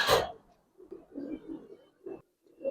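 A Giribaj pigeon of an old Dhaka strain gives soft, low coos in short bursts, fairly close and faint, after a sharp rustle at the start.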